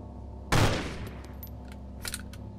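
A single gunshot in the survival game DayZ: one sharp, loud crack followed by a decaying tail, then a few faint distant clicks and pops over a quiet background.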